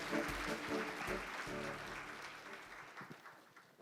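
An indoor audience at a scholarship alumni anniversary evening claps warmly to welcome a speaker. The applause is dense and sustained, then gradually thins out toward the end.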